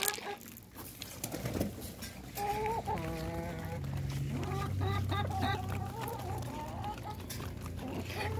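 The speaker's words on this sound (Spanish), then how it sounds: "Y las gallinas, quiero que vean." Chickens cluck and coo nearby while being fed, with short repeated calls over a low background rumble; a voice murmurs faintly in the background.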